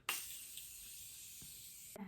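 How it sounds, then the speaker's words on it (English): Morphe Continuous Setting Spray is sprayed in one long continuous hiss lasting nearly two seconds, close and steady, ending with a soft click. "I'm gonna go spray some of the Morphe Continuous Setting Spray."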